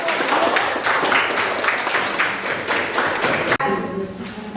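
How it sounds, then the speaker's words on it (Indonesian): Students in a classroom applaud a presenting group, a burst of close, busy clapping that stops abruptly, followed by a brief lull of room noise. "tepuk tangan dulu untuk kelompok"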